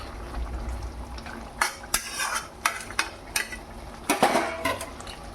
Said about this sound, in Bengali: যে আমি মাছগুলো ভেজেছিলাম সেই মাছ কটা এর মধ্যে ঢেলে দিলাম